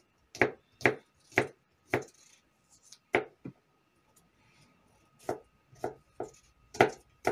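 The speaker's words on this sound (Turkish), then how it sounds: "Biber, domates, sarımsak doğrayıyoruz." Peppers, tomatoes and garlic being chopped with a knife on a board for a kebab dish, a run of sharp evenly spaced knocks, a pause, then more chops, close and clear with no talk.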